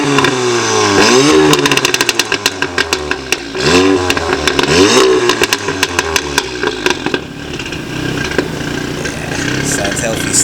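A BMW E30 revs repeatedly at a car meet, its engine note sweeping up and down in loud, sharp blips with crackling pops, while voices talk underneath.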